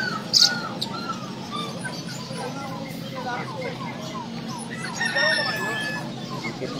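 A rooster crows among other fowl at the busy Bocaue pet market, its call strained and layered over background clucking, chatter and crowd noise while people talk nearby.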